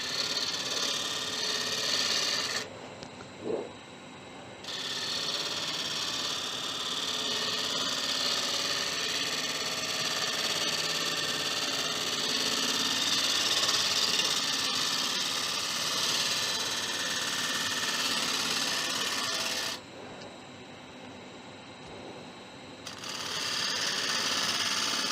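Carbide tool cutting an acacia wood and resin bowl spinning on a lathe, a steady close whirring grind with a high scraping edge and two short pauses.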